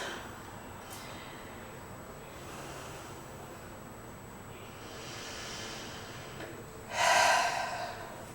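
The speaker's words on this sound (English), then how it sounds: "Taking a moment, taking a couple of big deep breaths." Slow, deep breathing during a yoga flow session: a quiet, hushed room with faint airy breaths, then one louder, sharp inhale near the end, close to the microphone.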